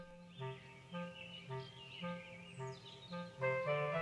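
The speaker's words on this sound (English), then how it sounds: "There were birds" Cartoon birds in an animated Bible creation story chirp in repeated bright tweeting phrases, several short bursts spaced evenly with a twittering flourish near the end, clear and fairly quiet.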